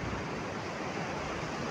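A soft, steady broadband wash of sea waves and surf stays faint and distant, with some wind mixed in and no voices.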